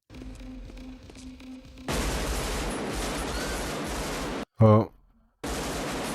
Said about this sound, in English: Wow, the sound of that gun is mean. Is that like an M16?